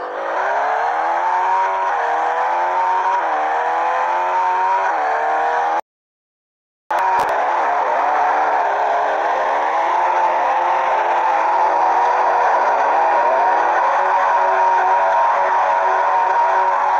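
Engines whine and rev as cars race in a video game, with shifting pitch, loud and continuous, broken by a short dropout of silence partway through; tires squeal at times and nobody speaks.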